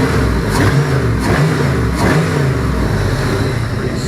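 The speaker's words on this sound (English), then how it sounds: "That exhaust sounds pretty good." An LM7 5.3L LS V8 fitted with an LS1 cam runs loud through its exhaust, a steady throaty rumble with rhythmic revs rising and falling every half second or so.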